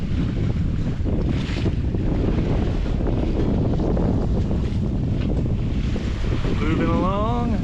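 Light wind rushing over a microphone aboard a sailboat at sea off Guadeloupe, a steady loud buffeting blended with water wash against the hull.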